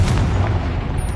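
A Confringo explosive spell in the Hogwarts Legacy video game, a loud, deep booming blast with a rumbling low end that sustains briefly and fades slightly.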